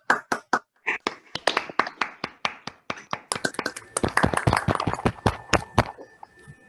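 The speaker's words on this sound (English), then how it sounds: "let's give Fakher a nice round of applause" A room of workshop attendees claps after a talk, the applause starting as sparse separate claps and thickening into a denser patter before fading.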